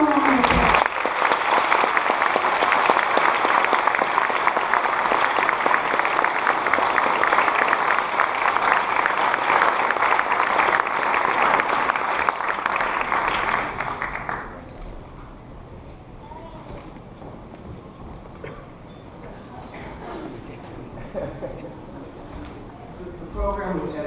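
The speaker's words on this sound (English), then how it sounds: "Give them a round of applause." Audience applause at an 8th grade graduation ceremony, loud sustained clapping from a full room for about fourteen seconds before it drops away to quieter murmuring and movement.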